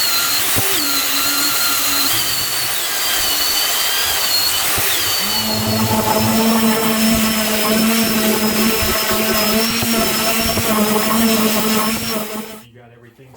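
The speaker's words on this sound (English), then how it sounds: "we're going to start sanding the sides, getting it smooth up" A power sander works steadily on the wooden sides of a handmade toolbox, a continuous close whine and rasp for about twelve seconds before cutting off, with talk over it.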